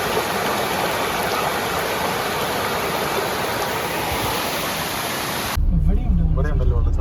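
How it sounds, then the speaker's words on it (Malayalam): A waterfall at Thekke Malambuzha in Palakkad, Kerala, gives a loud, continuous broadband rush of falling water, then gives way abruptly to nearby voices talking with the water still faintly behind. "ഇവിടെ ഉണ്ടല്ലോ വെള്ളച്ചാട്ടം."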